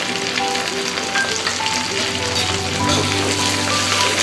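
Beef kala bhuna frying with chopped onions and whole green chilies, a loud, steady crackling sizzle with bubbling spatters, briefly swelling as the pan is stirred.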